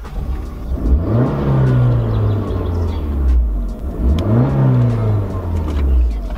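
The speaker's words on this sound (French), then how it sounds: "on va essayer l'accélération un petit peu pour voir ce qu'elle donne au niveau du son" Abarth 595 Cabriolet in sport mode revving as it accelerates: two loud rising engine pulls, each climbing in pitch then easing off, rasping and close with no talk over them.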